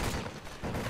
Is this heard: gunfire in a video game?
yes